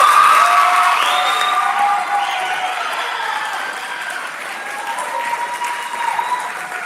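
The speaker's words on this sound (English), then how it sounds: "Please give them a hand." Concert audience applauds jazz ensemble students, loud sustained clapping that gradually thins and softens, with some cheers mixed in.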